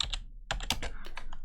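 A short burst of computer keyboard typing during a PowerShell coding session, several crisp, distinct keystrokes heard close and alone.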